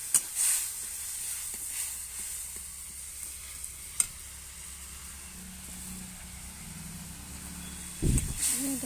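Water poured into a hot pan hisses in a steady, moderate sizzle that carries through the whole stretch. Brief louder bursts of spitting come near the start and again near the end, with light stirring clatter underneath.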